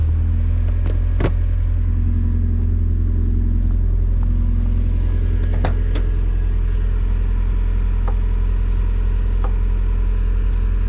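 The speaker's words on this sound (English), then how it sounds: "Let's go for a drive." A Mazda Miata pulls away, its engine rumbling steadily up close with light revving and a few sharp clicks and knocks over the continuous drone.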